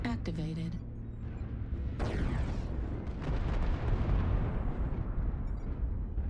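Artillery strike explosions in a video game, a series of loud booming blasts and bursts rolling together continuously, with a voice speaking over them.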